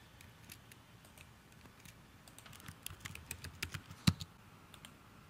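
Fingers type on a computer keyboard, entering billing details; light scattered key clicks pick up into a faster, louder run with one sharp hard tap near the end, close and alone.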